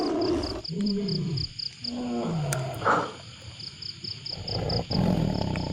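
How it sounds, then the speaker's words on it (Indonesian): A tiger roaring in repeated drawn-out growling bursts with gaps between them, fairly loud and close, over a steady high-pitched pulsing chirp in the background. "Kayak suara harimau"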